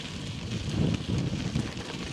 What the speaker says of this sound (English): Really strong headwind.